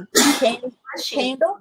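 Two sharp sneezes burst out close to the microphone in quick succession, loud and abrupt, each with a breathy explosive onset, during a live auction show, with a brief spoken word between them.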